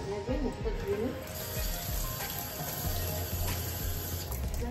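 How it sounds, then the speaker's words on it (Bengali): Tap water runs steadily into a sink during face washing in a home skincare routine, a constant close splashing hiss with a faint voice underneath. "মুখটা ধুয়ে নিই"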